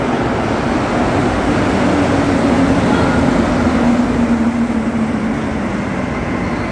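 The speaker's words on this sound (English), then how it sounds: "let's see this train coming in." Montreal metro train arriving at an underground platform, a steady loud rumble with a rising and falling tonal whine running throughout, no voices.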